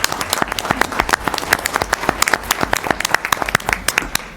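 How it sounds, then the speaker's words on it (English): An audience at a city commission meeting applauds steadily, a dense spread of clapping hands with no voices over it. "Let's give him a round of applause."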